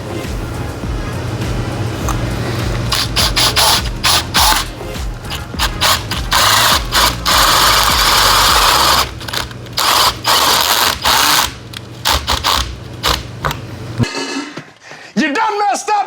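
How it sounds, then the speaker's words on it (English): A drill with a large bit bores a bird-entry hole into a cedar birdhouse, a loud grinding whir broken into repeated bursts, with people talking over it and near the end. "cedar doesn't drill with a big brutal bit very well"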